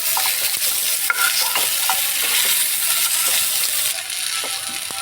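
Fried vegetables for shukto are stirred in a pan, a continuous sizzle overlaid with repeated scraping and clicking strokes of the spoon, steady and close, with no talk.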